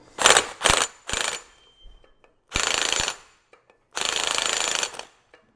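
An impact wrench tightens differential bolts on a Land Cruiser during a gear and locker install, firing three short, close, rattling bursts, then two longer hammering runs separated by quiet gaps.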